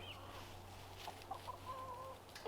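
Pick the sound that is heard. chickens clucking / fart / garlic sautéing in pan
chickens clucking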